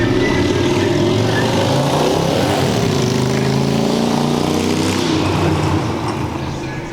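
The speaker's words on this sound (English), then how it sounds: "I'm outside and there's a cars going down the street." Cars roll past along a street outside, a loud continuous engine and tyre roar with shifting pitch as vehicles go by, fading slightly at the end.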